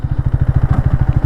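A 2025 Hero Xtreme 250R with a 250cc liquid-cooled DOHC engine running close by, a loud, even, rapid thumping pulse at steady revs.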